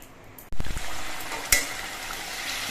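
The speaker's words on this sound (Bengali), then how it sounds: "দিচ্ছি চারটে চেরা কাঁচা লঙ্কা এই মাছ দিয়ে আবার তিন চার মিনিটের মতো ফুটিয়ে নিতে হবে" A fish curry with fried bhola fish and four slit green chillies in a pan bursts into loud bubbling and sizzling after a quiet moment, then keeps going, with one sharp clink partway through.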